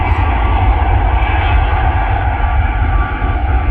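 Boeing 737 departing Manchester Airport, a loud, steady jet engine roar with deep rumble held close and constant throughout, no voices.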